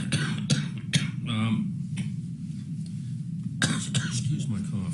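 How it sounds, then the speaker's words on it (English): A man coughs several times in short harsh bursts, close and fairly loud, set against a steady room murmur in what sounds like a courtroom setting, with brief pauses between the coughs. "excuse my cough here."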